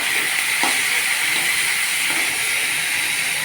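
Cabbage leaves frying in oil with garlic and black cumin, a constant bright hiss and sizzle close by with a couple of faint taps from stirring.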